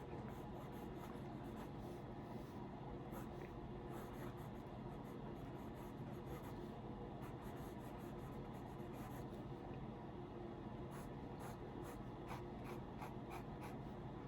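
Fountain pen nib scratching and gliding across paper, very faint and continuous under steady background hiss, with soft scratchy strokes and no talk.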